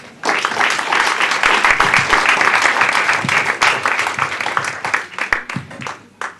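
Loud, sustained audience applause fills a hall at a spiritual marriage session, dense clapping that builds quickly and tapers off with a few scattered claps at the end.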